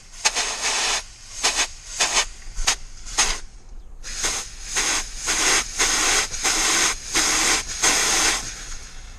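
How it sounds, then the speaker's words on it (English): Compressed air hisses loudly in a long series of sharp bursts of varying length from an air line, blown over a repaired fitting on a rig to check for a leak; a short gap comes before the later bursts. "Let's give her some compressed air."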